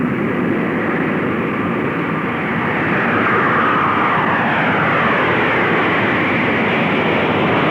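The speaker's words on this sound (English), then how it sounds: "Captain Fitz Fulton and co-pilot Tom McMurtry will fly the carrier aircraft as chase planes help monitor the operation" A Boeing 747 carrier aircraft in flight: a loud, continuous broadband roar of jet engines, steady and close throughout with no talk.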